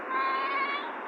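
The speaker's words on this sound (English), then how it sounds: "I see it, but it's a cat called Ginger" A cat gives one drawn-out, clear meow lasting about a second, close and fairly loud, with no other sounds around it.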